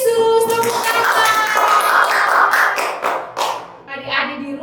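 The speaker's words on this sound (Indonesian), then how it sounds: "Mari bertepuk tangan yang sangat meriah untuk Tuhan Yesus." At a church Sunday school session, children clap their hands in scattered bursts mixed with excited kids' voices and singing-like chatter, close and lively, with a few sharp taps standing out.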